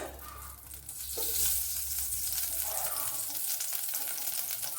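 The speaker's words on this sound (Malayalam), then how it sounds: "അതിലേക്ക് 1 ടേബിൾ സ്പൂൺ വെളിച്ചെണ്ണ ഇട്ട് കൊടുക്കാം." Coconut oil heating in a pan for sambar, a gentle, continuous sizzle and crackle close by, rising slightly after the first second and staying steady with no talk.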